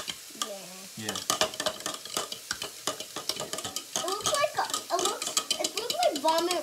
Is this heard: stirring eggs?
yes